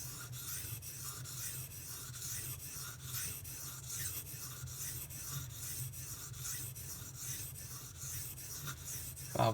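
A Kershaw Launch 11 knife blade with an off-center factory grind is drawn repeatedly across a sharpening stone, giving quiet, even rasping strokes in a steady rhythm, close and alone.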